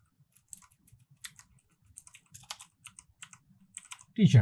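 Rapid, irregular keystrokes on a computer keyboard while text is entered in a WordPress form, close and fairly quiet, ending in a louder burst of clatter.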